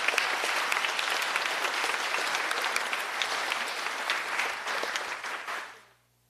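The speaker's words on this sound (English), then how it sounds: "Please give them a round of applause" An audience at a school winter concert in Hilo gives sustained, even applause with many hands clapping at moderate distance, then the sound fades out abruptly at the end.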